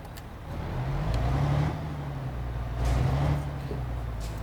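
A truck engine in Euro Truck Simulator 2 heard with the cab window open: a steady low rumble that swells twice, with faint road noise and no voices.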